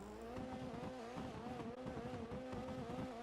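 Vampa GB 200 sports car from GTA 5 revving steadily in the game, a continuous engine drone with a rising and falling tone throughout, no talking.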